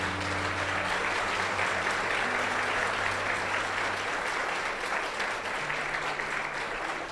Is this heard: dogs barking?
no